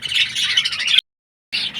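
Dense, high-pitched chirping and twittering of budgerigars, continuous and close, broken by a brief silent gap before the chatter resumes.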